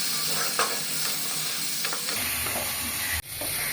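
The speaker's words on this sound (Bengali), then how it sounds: "আর একটু জল দিয়ে কষিয়ে দেবে।" Fish masala with turmeric, chili and cumin powders sizzles and hisses as it is sautéed with a splash of water. A steady frying noise carries soft stirring scrapes, close up, with no talking.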